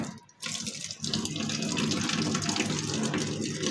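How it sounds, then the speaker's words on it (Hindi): Water starts pouring into an LG top load automatic washing machine, a brief quiet moment giving way to a steady, close rushing flow that continues to the end. "पानी जो है वो आना शुरू हो गया है।"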